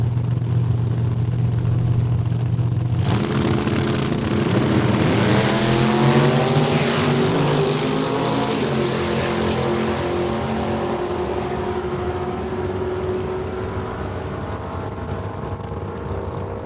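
A 1966 Chevelle and another drag car launch at Saskatchewan International Raceway, engines roaring loud and close, then rising through the gears and fading down the strip.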